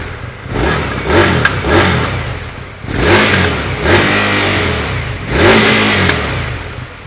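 An Indian Scout motorcycle engine revs hard in three close, loud bursts, each climbing quickly to the rev limiter, where it stutters and bounces before dropping back to idle.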